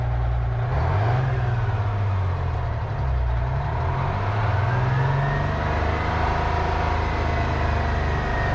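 A Detroit diesel engine in a day cab truck idles steadily up close, a continuous low rumbling drone with a faint whine above it, warming up and smoky, with no talking.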